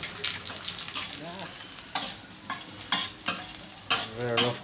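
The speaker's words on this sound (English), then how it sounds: "so while that's cooking, we're just stirring" Food sizzling in a frying pan while being stirred, with repeated scraping strokes of the utensil over a steady crackle, close by, and a voice talking briefly.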